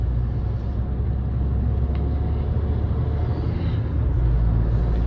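A Fiat Fiorino 1.3 van cruising at highway speed above 110 km/h, a steady low engine and road rumble inside the cabin with a constant wash of wind noise, no speech.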